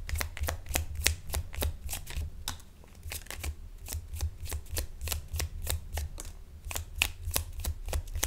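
A deck of tarot cards is shuffled continuously, with rapid crisp riffling slaps and flutters repeating close up at a moderate level, no talking.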